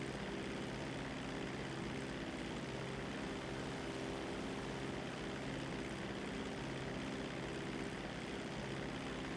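An airplane flying in the video game GTA 5 during flight school: a dense, continuous propeller-engine roar with steady droning hum, loud and unbroken throughout, no speech.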